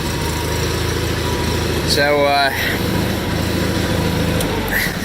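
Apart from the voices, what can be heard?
John Deere 318 garden tractor engine running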